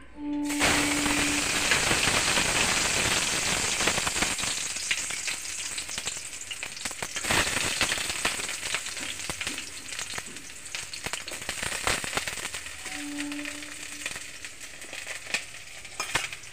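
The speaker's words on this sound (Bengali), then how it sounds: "আমি একটু উচ্ছেগুলোকে ভেজে নিচ্ছি" Bitter gourd frying in hot oil in a pan, a loud, dense, continuous sizzle heard up close for the whole stretch, with occasional crackles and light stirring noises and no voices.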